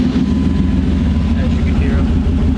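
A 1998 GMC Sierra SLT truck idles with its electronic exhaust cutouts open, giving a loud, deep, steady rumble heard up close from underneath, while someone talks over it.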